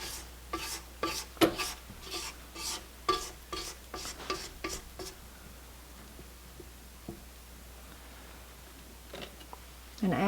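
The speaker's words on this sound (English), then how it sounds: "I'm going to scrape down the sides" A spatula scrapes down the sides of a mixing bowl as sauerkraut cake batter is made, giving a run of short rhythmic scraping strokes that stop partway, followed by quiet, with a light knock near the end.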